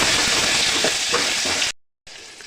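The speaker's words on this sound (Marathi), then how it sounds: "तेल गरम झाल्यावर कढीपत्ता घालायचा आहे एक छोटा चमचा आलं लसूणची पेस्ट घालत आहे" Curry leaves and ginger-garlic paste hit hot oil in a pan with a loud, dense, close-up sizzle that cuts out abruptly for a moment, then returns more quietly.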